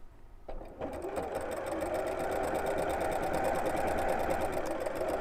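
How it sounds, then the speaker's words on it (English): A sewing machine runs steadily for about five seconds after a few brief clicks, stitching across a zipper slider, its rapid mechanical hum close and continuous with no talk over it. "just again turn the handle towards you to make sure that the needle's not going to hit the foot, and then we'll sew across and then start sewing down."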